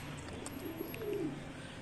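Soft pigeon cooing rises briefly in the middle over a steady outdoor hum in Peshawar after heavy rain, faint and somewhat distant.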